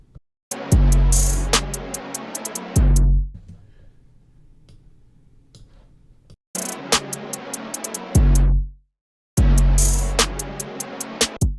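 A looping beat with punchy drums plays, then abruptly slows and fades into a low rumble before the beat kicks back in, stopping and restarting again.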